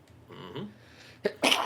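A short, sharp sneeze bursts out near the end, loud and close, after a stretch of quiet room noise and faint murmuring.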